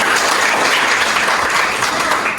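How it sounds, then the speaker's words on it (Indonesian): A classroom applauds a student after she answers correctly during a cooperative-learning lesson, steady dense clapping from many hands filling the room at full volume without a break. "tepuk tangan untuk Bulan"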